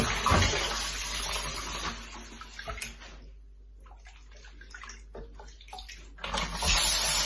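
Soaked dried plums being rinsed in a bowl of water, with loud sloshing and pouring splashes at the start and the end and quieter trickling in between, with no talking.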